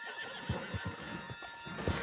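A horse in Red Dead Redemption 2 whinnies while hooves clip-clop in an uneven rhythm, close and fairly clear over a faint steady background hum.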